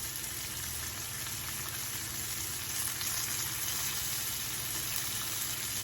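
Pork chops fry in butter with smashed garlic and rosemary sprigs, giving a steady, dense sizzle that holds evenly throughout, close up with no talking.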